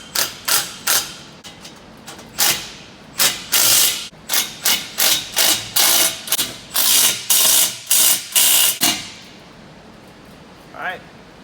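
A hand ratchet clicks in repeated quick bursts while tightening exhaust bolts on a Nissan 240SX ISR single-tip blast pipe, close and sharp, with short pauses between strokes, then it falls quiet apart from a faint brief noise near the end.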